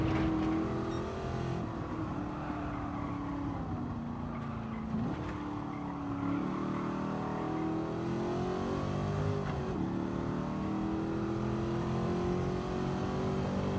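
A De Tomaso Pantera engine in Gran Turismo 7 holds a steady, droning note that rises and falls with shifts and throttle changes through a lap, loud and continuous with no talk.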